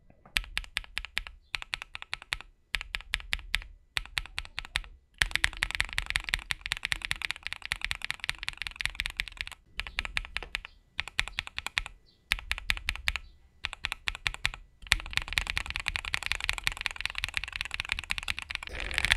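A mechanical keyboard with Durock POM switches and long, heavier springs is typed on in quick bursts of crisp, close clacks, broken by short pauses between runs, with no one speaking.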